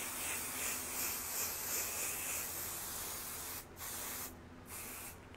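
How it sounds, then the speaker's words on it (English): Adhesive spray basting the corners of a puff quilt, a continuous close hissing spray that runs steadily, then breaks into short bursts near the end, with no talking. "I'm gonna spray base those corners a little extra"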